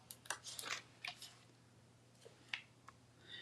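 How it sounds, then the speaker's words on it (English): Scissors trimming an edge off decorative paper for a gift bag project; a few quiet, crisp snips in scattered bursts, close by and otherwise near silent. "let me cut an edge off."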